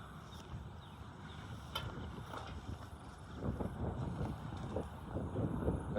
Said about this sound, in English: every time I say that, the wind kicks up